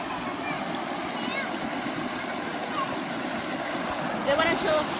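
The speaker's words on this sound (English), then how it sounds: "Come to Taton Waterfall." Taton Waterfall in rural Thailand gives a constant, moderately loud rush and splash of falling water, with faint voices mixed in and a slight swell near the end.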